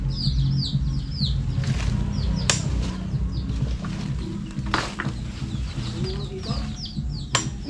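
Repeated bird chirps and tweets scattered throughout, with sharp clicks and a low background murmur, fairly close.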